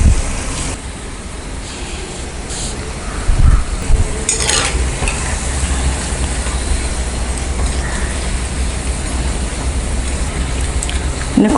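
Semiya pakoda deep-frying in oil, a constant bubbling hiss with a few louder bursts and clatters as it is stirred, close and fairly loud, no speech.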